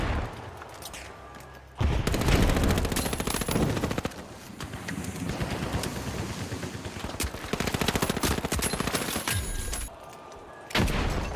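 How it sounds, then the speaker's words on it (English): A frag grenade and rapid gunfire in The Finals, with dense bursts of automatic shots and sharp blasts that go on for several seconds, stop briefly, then resume loud and close. "Frag grenade out."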